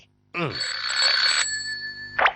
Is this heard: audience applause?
no